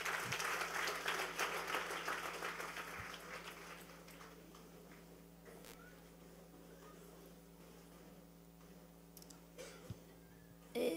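A church congregation at a fasting service breaks into applause that begins loud and dense, then thins and fades to scattered faint claps over a low hum, with a few isolated claps near the end.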